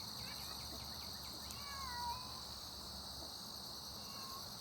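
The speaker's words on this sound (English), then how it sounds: "kitty cat, what are you meowing about?" A garden cat gives a faint, brief meow amid a constant chorus of crickets and insects on a quiet late-summer day.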